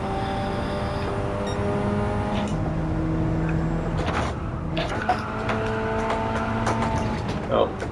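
A car engine drones and shifts pitch as the car slides through a drift in Gran Turismo 7, a steady, close motor tone with revs rising and falling and brief tyre scuffs, while someone talks over it.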